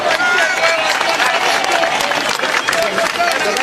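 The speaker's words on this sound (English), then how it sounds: "Another rousing round of applause for that wonderful presentation from our students" Dense, steady applause fills the hall after a student presentation at an event, loud and close throughout with no break.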